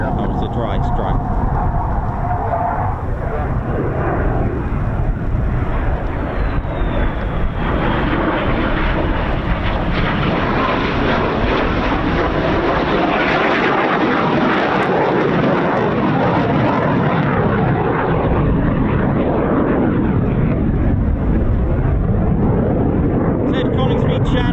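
F-16 fighter jet making a strafing pass over the RAF Holbeach air weapons range, a loud, continuous roar that swells and holds throughout, with radio chatter mixed in.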